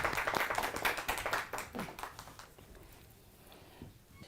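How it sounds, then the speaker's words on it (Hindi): Audience clapping welcomes a speaker onto the stage at a Modicare gathering: a brief burst of fairly close hand claps that thins out and fades to quiet after about two and a half seconds. "प्लीज़ तालियों के साथ उनका स्वागत कीजिए।"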